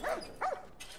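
Dogs in the video game The Last of Us give two short, sharp barks or yips, fairly faint and set apart by a brief pause, with no talking over them.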